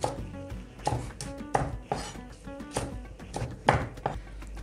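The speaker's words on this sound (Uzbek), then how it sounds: "Bulg'or qalampirlarni yirik-yirik holatda to'rg'ab olamiz" Knife chopping bell peppers into large chunks on a cutting board, a steady run of firm, close, evenly spaced thuds with no talking.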